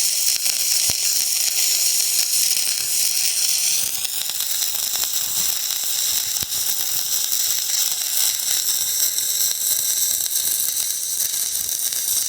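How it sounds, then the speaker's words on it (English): Welding on a part for a hydrogen generator gives a steady, loud, close hiss and crackle throughout, with faint clicks underneath. "I'm almost finished welding, but I'm gonna see if I can record some welding also."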